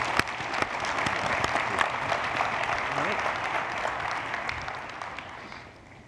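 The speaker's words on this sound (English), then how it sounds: "can we give them a round of applause" Audience applause for departing panelists at the WASTECON 2019 waste industry conference, a steady broad wash of many hands clapping that holds for about six seconds and tapers at the end, with a few faint voices mixed in.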